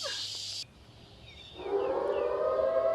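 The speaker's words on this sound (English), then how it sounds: "They were just testing the sirens." Civil defense sirens being tested: a high sustained tone cuts off, then a lower siren wail swells in and holds steady, heard at a distance.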